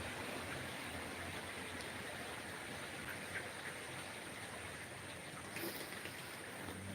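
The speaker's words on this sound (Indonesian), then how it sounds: "Hujan lagi." Rain falls steadily in a soft, even hiss, moderately faint and continuous with no voices over it.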